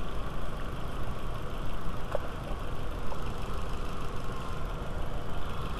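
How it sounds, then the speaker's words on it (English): A Volkswagen A4 with the 1.8T (AWD) engine idles with its secondary air injection pump running, giving a steady, even drone with no variation in rhythm throughout. "the air pump is running"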